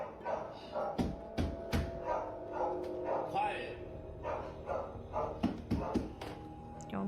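Several dogs bark in sharp, scattered bursts throughout, close by, while a voice speaks briefly over them.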